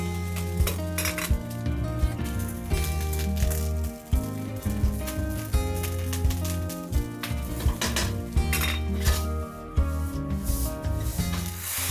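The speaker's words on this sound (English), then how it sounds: "Break up any clumps with your spatula." Metal spatula scraping and clinking against a pan while breaking up clumps of day-old cooked rice for fried rice, in repeated rhythmic strokes and scrapes, close and clear, with no talking.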